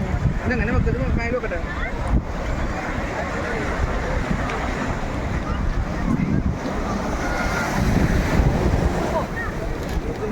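Sea waves wash continuously on the beach at Velankanni with wind rumbling across the microphone, while people talk faintly in the background.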